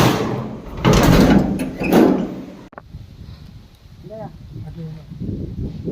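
A sliding door rumbles shut with a loud rush against stormy wind in Konkan, then a soft thud, followed by quieter room sounds and a voice talking.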